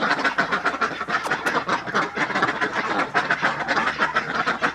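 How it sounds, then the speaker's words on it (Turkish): Colourful ducks at a small animal show quack in a busy, overlapping chorus, close and loud, with repeated nasal calls crowding together. "rengarenk ördekler"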